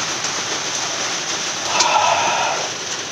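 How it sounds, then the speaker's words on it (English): Rain falling steadily and growing heavier outdoors beside a shed, a continuous broadband hiss that swells louder about halfway through, with no talking. "It's starting to rain hard again."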